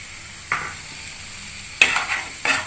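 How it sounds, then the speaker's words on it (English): Pasta being stirred with pasta masala in a pan at home: three scraping stir strokes, one faint and two louder, over a quiet sizzling background, with no talk. "Just mix it properly so that the masala gets coated all over."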